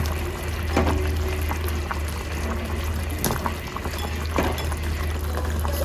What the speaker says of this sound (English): So now we're going to add the potatoes and the carrots to it.